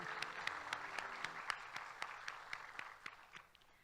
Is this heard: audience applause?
yes